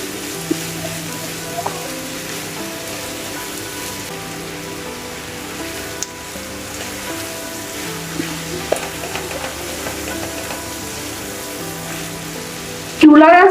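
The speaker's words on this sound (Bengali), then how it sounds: "আর কচুরলতিটাকে ভেজে নিতে হবে" Taro stolons (kochur loti) frying in a pan on low heat, giving a steady, even sizzle with faint scattered clicks throughout, ending in a sudden louder burst of noise.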